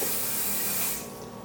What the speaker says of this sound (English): we're going to spray our mini springform pans